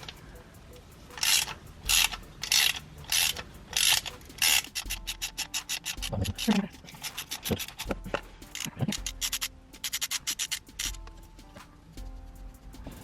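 Ratchet fitted with a short extension clicking as it backs off 10mm nuts on a Ford Focus RS intercooler hard pipe, with quick bursts of close, loud ratcheting separated by brief pauses and metallic handling noises.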